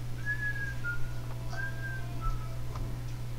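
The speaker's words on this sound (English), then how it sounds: "I heard some whistling." Two short rising whistles, each followed by a lower trailing note, sound faintly over a steady low hum. The pattern repeats once, clear but not loud.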